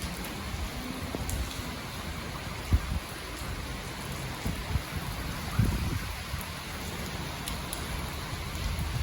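Tropical Storm Isaias rain pours steadily in the Dominican Republic, a dense, constant hiss of drops hitting surfaces with occasional heavier splats, continuous and fairly close throughout.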